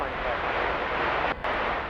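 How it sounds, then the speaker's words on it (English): An aircraft air start unit at DFW Airport roars as a steady broadband rushing drone, loud and continuous, broken by one brief dropout near the end. "we have one of those annoying air starts"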